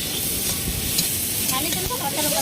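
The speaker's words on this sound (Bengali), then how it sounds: "কাঁকড়া ওদিকে রান্না চলছে" Crab curry cooking in a pan with chili powder spice paste, giving a steady close sizzle and hiss of frying with occasional scraping stirs.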